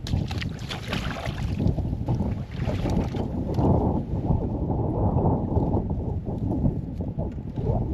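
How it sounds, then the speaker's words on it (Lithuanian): A steady gust of wind blows across open water during night fishing for bream at Skirvytė, a continuous low rushing roar buffeting the microphone for the whole stretch, with no talk. "Vėjo koks praėjo"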